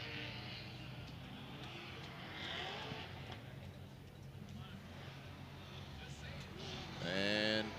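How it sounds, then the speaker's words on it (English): A drift car warms up its tires at a pro drift competition, its engine revving and tires droning faintly in the background beneath a commentator's steady talk, with a brief louder, rising whine near the end. "Ryan Literal warming up his tires in the background there."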